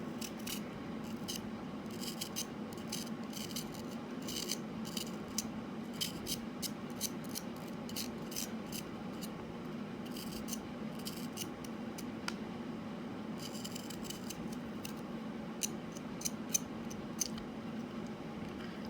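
A knife scrapes and trims a carved radish sunflower in short, quiet bursts of crisp scratching, repeated in irregular clusters over a low steady hum, with no talking.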